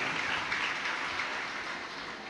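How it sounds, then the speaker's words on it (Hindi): Loud, dense applause from a large audience at a Shiv Mahapuran religious discourse, a steady wash of clapping that stays even and sustained throughout with no voices over it. "एक बार जोरदार ताली बजाकर इनके लिए साधुवाद।"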